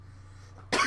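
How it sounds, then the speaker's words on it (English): A single sharp cough bursts out at the very end, loud and close, after a near-silent stretch with only a low hum. "So I'm coughing up."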